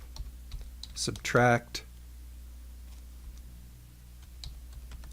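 Light clicking keystrokes on a computer keyboard come in a quick flurry and then a few scattered taps, while a voice briefly speaks.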